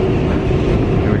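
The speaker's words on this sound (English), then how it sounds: "our subway is not necessarily always underground, so it's not only subway, it's above ground." A New York 7 subway train running above ground on an elevated track, a loud, steady low rumble and roar heard from on board, with no clear talking.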